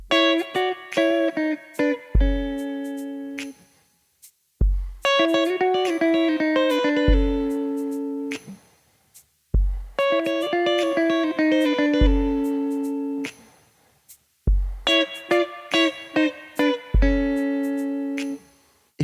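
Clean guitar plays a gospel turnaround four times in a row, each a quick run of ringing notes and chords that settles on a held final chord, with short silent gaps between repeats.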